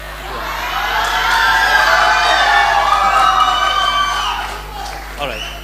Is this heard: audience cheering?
yes